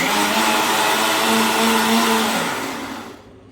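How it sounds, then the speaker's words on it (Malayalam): A blender whirs steadily at high speed for a few seconds, blending curd, then winds down and stops. "തൈര് മിക്സിയിലൊന്ന് അടിക്കുക."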